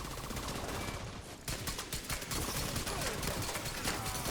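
Dense, continuous rapid gunfire from a shotgun-style automatic weapon in The Division 2, a steady loud stream of shots with only a brief dip before resuming.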